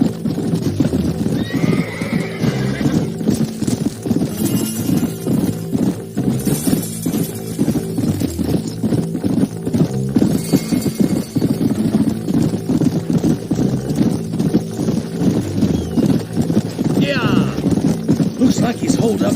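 Horses in the Red Dead Redemption video game clop steadily with repeated hoofbeats and an occasional whinny, set over a droning musical score with bits of voice throughout.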